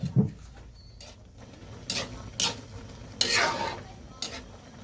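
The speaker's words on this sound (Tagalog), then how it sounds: "haluin lang na haluin" A spoon scrapes and stirs squid with chili in a frying pan, making several distinct sweeping scrapes and clanks over a soft background sizzle.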